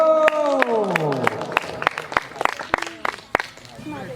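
Audience at a school poetry recital applauding, sharp scattered claps and cheers arriving in bursts over a sustained falling voice, with a lively crowd murmuring close by.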